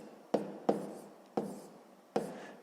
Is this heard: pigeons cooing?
no